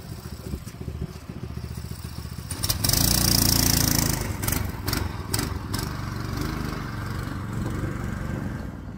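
A Volkswagen Baja Bug powered by a small Predator engine runs with a buzzing, lawn-mower-like chatter, revving up sharply partway through, then settling into a rough, steady idle with clattering bursts, close and loud.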